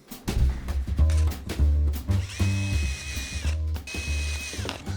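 A power drill bores drainage holes through the bottom of a planter already filled with soil, whirring in short bursts with two sustained high whines, loud and close.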